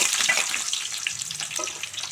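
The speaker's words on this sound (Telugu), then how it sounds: "ఈ లైట్గా గోల్డెన్ కలర్ వచ్చేలా ఫ్రై చేసుకుందాం అండి" Onions frying in hot oil with tempering spices for a flat-bean fry, a close, steady sizzle with scattered crackles and occasional stirring scrapes throughout, no voices.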